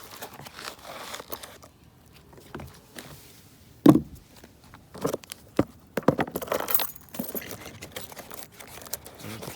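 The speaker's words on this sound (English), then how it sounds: "maybe I can put the keys in there while we're fishing." Metal keys jangle and clink as they go into a case, with close rustling, crinkling handling noise and a few sharper knocks in between.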